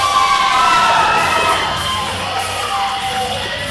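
Crowd at a wrestling show cheers and shouts loudly, a dense mix of excited yells and high-pitched voices that gradually eases but stays busy throughout.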